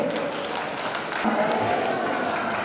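Audience applause at an opening ceremony stage event for Jan Ramayan, a dense burst of many hands clapping at moderate distance, steady for a few seconds with voices mixed in underneath.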